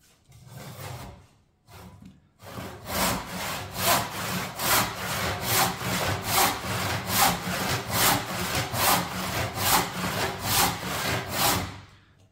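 A hand saw cuts through square timber in a fast, steady rhythm of about twenty close, loud strokes, each a rasping push-pull, after a few tentative starting strokes and a short pause.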